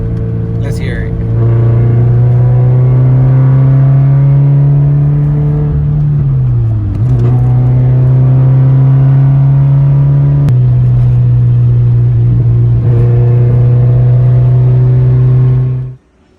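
A Scion FR-S exhaust idles loud and close, its steady low drone dipping briefly before rising again in two revs, then cutting off abruptly at the end.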